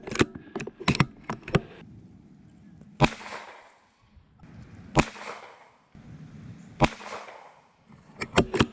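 A CZ 457 American rifle fires 17 HMR rounds outdoors at a 70-yard target: sharp, loud cracks with short decays, spaced a couple of seconds apart, mixed with quieter clicks of working the bolt.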